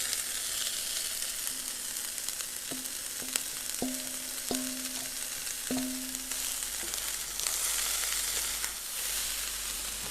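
Carrots, shrimp and chicken stir-frying for mie goreng, a loud continuous sizzle with several short metallic scraping and tapping sounds of stirring in the middle.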